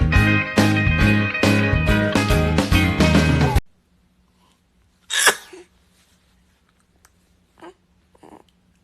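A baby's small sneeze rings out once at mid-clip, with a couple of faint softer sounds after it, all following a stretch of loud music that stops abruptly.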